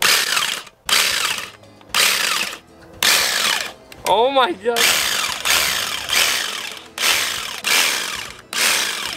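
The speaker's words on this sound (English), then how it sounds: "we're doing the power tool" A power tool grinds and whirs in repeated loud bursts while cutting into a pumpkin, with brief pauses between passes and a person exclaiming once.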